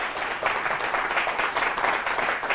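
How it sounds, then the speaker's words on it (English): An audience at a magic lecture breaks into steady applause, a dense continuous patter of many hands clapping at moderate volume for a few seconds with no voice over it. "Give her a big round of applause, ladies and gentlemen."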